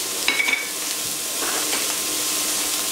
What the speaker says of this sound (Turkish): ekleyip şöyle bir kavuracağım